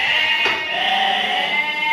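Ewes bleat steadily outside on a sheep farm, a sustained nasal call heard close and fairly loud over the whole stretch with no talk.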